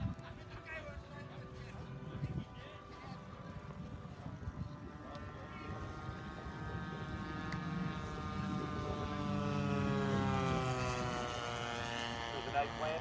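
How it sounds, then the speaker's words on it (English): E-flite T-28 radio-controlled model airplane flying at a warbird fly-in, its engine drone rising and shifting in pitch as it climbs and passes, with an announcer talking over it throughout. "E-Flight Joe Mayer going up T-28"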